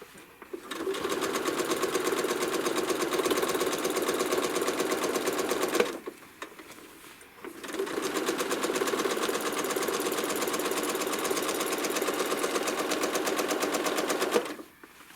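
A home sewing machine runs loud and close, stitching a quilt along a ruler in two long bursts of rapid, even clatter separated by a brief pause.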